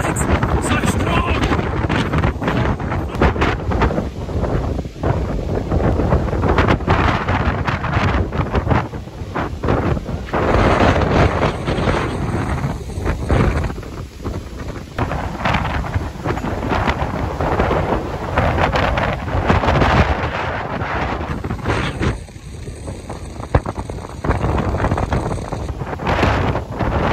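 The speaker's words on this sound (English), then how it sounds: "The sand, the wind just picked up the sand." Strong wind whipping sand during a bike ride, a loud, constant roaring buffet across the microphone that barely eases for the whole stretch.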